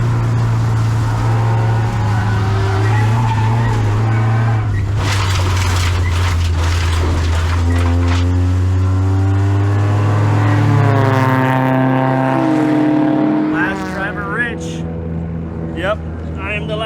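A Porsche 944 races off the track at Chuckwalla Raceway, its engine loud and close, droning and rising through revs and gear changes while dirt and gravel crunch beneath the car.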